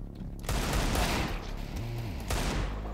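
Gunfire in the video game CS:GO: a burst of close, loud rifle shots rattles at the start, then another burst follows near the end, with game sounds in between.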